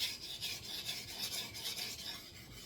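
A Schrade 7-inch knife blade grinding back and forth on a wet coarse whetstone, a steady rhythmic raspy scraping of close strokes with no voices.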